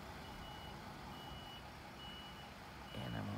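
A big truck with a trailer reverses slowly, its reversing beeps sounding in faint, regularly spaced pulses over a steady low engine rumble that swells louder near the end.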